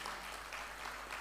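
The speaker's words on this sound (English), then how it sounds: "give themselves a very loud clap and round of applause" Workshop delegates at an ITU-SADC early-warning awareness meeting in Malawi clap for themselves, a soft, steady, diffuse patter of many hands heard at some distance over a low hum, with no voices.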